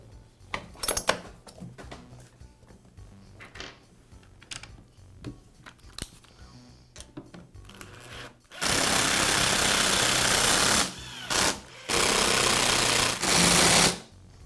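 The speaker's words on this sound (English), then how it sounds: "To make sure that the pulley aligns with the pawls on the flywheel, I'll give the rope a little pull." Small clicks and rattles, then several loud, harsh bursts of rasping whir, each a second or two long, from the starter rope being pulled on a Poulan chainsaw with a newly installed starter kit.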